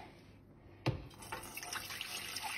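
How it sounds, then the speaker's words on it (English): Chicken stock pours from a pot through a colander into a bowl in a kitchen sink, a sudden splash followed by a steady close rush of liquid running and trickling. "we're going to take this over to the sink and we're going to strain"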